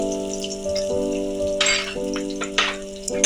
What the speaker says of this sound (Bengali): কালো জিরে ফোড়ন দিলাম সঙ্গে দেবো একটু চেরা কাঁচা লঙ্কা